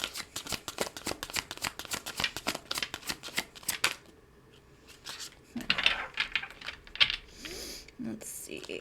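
A deck of tarot cards is shuffled in rapid, dense riffling clicks for about four seconds. Softer, sparser card handling and a few light taps follow.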